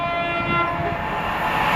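A Virgin train's horn blares one steady, loud tone as it passes through Stevenage station, over the rushing roar of the train.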